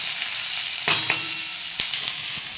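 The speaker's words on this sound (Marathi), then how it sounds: "काजू पण टाकून घ्यायचे मस्त। सगळं आता परतून घेऊ आपण।" Cashews and onions sauté in hot oil in a pan, a steady close sizzle broken by a couple of sharp stirring knocks and scrapes.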